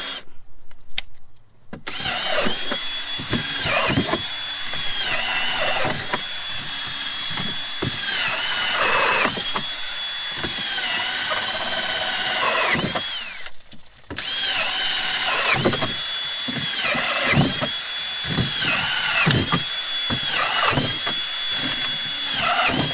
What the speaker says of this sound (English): I'm just going to drill some holes to let this rainwater out